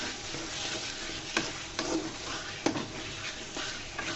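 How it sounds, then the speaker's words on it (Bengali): Brinjal pickle curry sizzling in a pan while being stirred, a steady quiet frying hiss broken by a few sharp scrapes and taps of the spoon, close and without voices. "দিয়ে আমি আবারও নেড়ে চেড়ে দিচ্ছি।"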